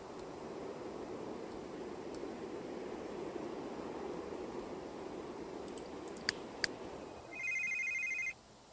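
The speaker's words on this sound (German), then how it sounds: "Ein Telefon bei Mikey." A telephone rings in The Sims 3, a short electronic ringtone pulsing near the end after a stretch of steady low background hiss broken by a couple of faint clicks.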